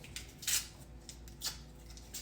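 A knife cutting cold butter into tablespoon portions in a home kitchen while baking, giving a few short, soft slicing scrapes close by, each separated by quiet.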